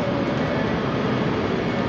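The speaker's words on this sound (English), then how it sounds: "we got a train arriving in now on platform number 4, 385035" Steady low rumble of a ScotRail class 385 electric train arriving at a platform in Glasgow Central station, a continuous moderately loud drone with no distinct clanks.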